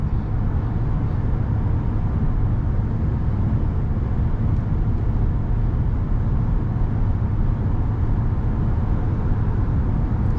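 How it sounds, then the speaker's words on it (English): A heavy pickup truck, over 5,000 pounds, rolls across a bridge with a constant loud road rumble and low-frequency roar, with no clear distinct bump impacts standing out. "You can hear how well this truck goes over the bumps."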